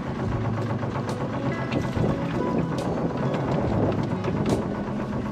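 Steady wind rushing over a 1978 Catalina sailboat turned straight into the wind off Long Beach, a constant full roar with faint water and hull noise beneath, no talking.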